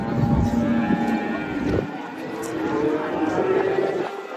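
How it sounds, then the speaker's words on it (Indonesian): A herd of cattle, including bulls, moos low and drawn-out while being unloaded from a truck, with steady outdoor noise throughout. "Rombongan sapi datang."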